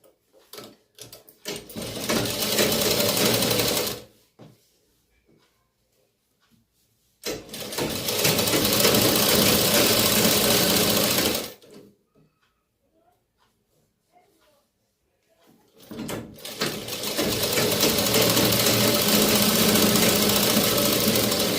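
Sewing machine stitching the hem of a pair of night pants, running in three loud sustained bursts of about four to five seconds each, separated by quiet pauses.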